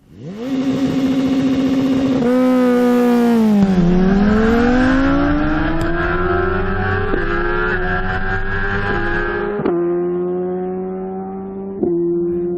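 A superbike blasts down a drag strip on a quarter-mile run, its engine loud and close, revving hard and climbing in pitch through several sharp gear shifts with no talking.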